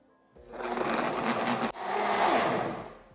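A blender runs on a gelatin mixture, a steady loud whirring motor that briefly cuts out midway and then starts again at the same level, with no talking.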